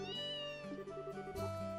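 A cat meows in the video game Trails in the Sky, with drawn-out tonal mews over a background of game music.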